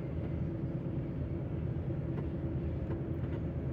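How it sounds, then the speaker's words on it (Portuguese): Long freight train with many wagons rolling past in Mato Grosso, Brazil, heard as a steady, heavy low rumble that stays even throughout, fairly faint and without voices. "Olha o trem chegando com mais um vídeo para vocês."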